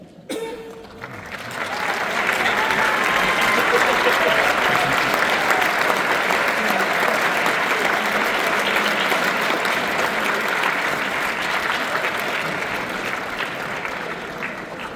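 Sustained audience applause fills a high school honor band concert, a dense wash of many hands clapping that swells within the first two seconds and holds steady and loud to the end.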